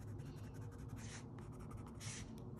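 A pencil shades a leather-jacket drawing on paper, a soft, steady scratching that swells into a few brisker strokes, close and quiet with no talk.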